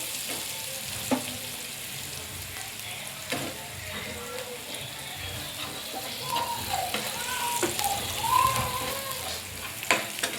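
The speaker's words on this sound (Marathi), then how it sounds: "आता आपला कांदा व्यवस्थित भाजलेला आहे" Onion fries in a pan, giving a low, continuous sizzle with occasional taps and scrapes of a utensil and faint bubbling sounds, with no speech.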